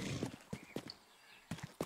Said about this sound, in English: Come on, get on the horsey.